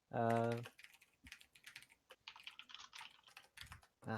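Quick bursts of typing on a computer keyboard, light clicking keystrokes in uneven runs, with people talking around them and a louder voice opening the moment.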